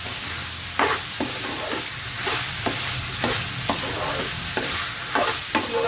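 Boiled pasta stirred into cooked keema in a pan, repeated scraping strokes of a spoon at a regular rhythm over a soft sizzle, close and fairly loud, with no talking.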